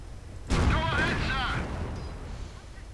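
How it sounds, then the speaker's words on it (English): An M18 Hellcat tank destroyer fires in a WWII strategy game, a sharp, loud blast that decays into rumbling battle noise while a voice talks over it. "Hellcat firing away."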